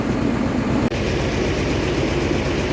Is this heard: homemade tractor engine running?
yes